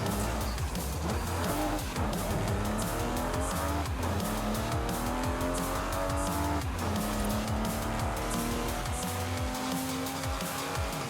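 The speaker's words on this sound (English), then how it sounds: "This is definitely what the E-Type was meant to do. Just fang it down a dirt Turn road." A Jaguar E-Type is driven fast down a dirt road in a racing video game, with a continuous roaring engine rising and falling through gear changes, plus tire noise and skidding, loud and close throughout.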